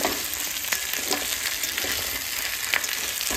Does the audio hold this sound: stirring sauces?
yes